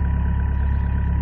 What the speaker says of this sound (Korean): 자 엔진 시동 걸었습니다.